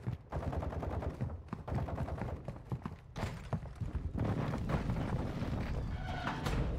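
Sustained gunfire in the video game Call of Duty DMZ, with dense rapid-fire bursts and shots crackling almost without a break, loud and close throughout.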